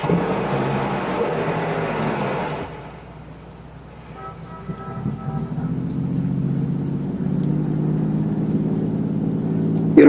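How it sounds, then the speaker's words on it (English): Car engine starting and then driving in a 1970s old-time radio drama, a whirring start followed by a steady engine drone that runs on alone. "Start the car."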